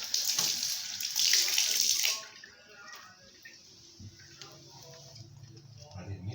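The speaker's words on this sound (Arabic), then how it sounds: "الميه بتجري على فتحه الصرف على طول" Water from a tap runs loudly into a small fiberglass bathtub and gurgles down the drain, then cuts off, leaving faint drips and low background noise.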